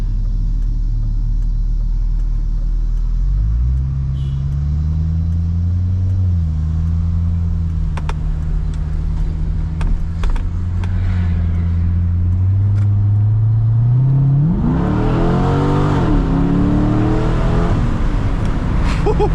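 Chevrolet C6 Corvette engine, heard from inside the cabin, rumbles low and steady, then revs up through rising pitch as the car accelerates hard near the end, loud and close throughout.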